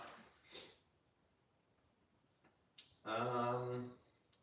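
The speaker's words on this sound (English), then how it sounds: "it's better than listening to the cricket in here" A cricket in a garage gives a faint, steady high chirp that repeats in a regular pulse, interrupted by a sudden louder burst of other sound near the end.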